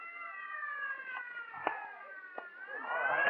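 Ambulance siren sound effect in an old radio drama, a steady sustained wailing tone that rises slightly, moderately loud, with faint thuds and rising noise near the end.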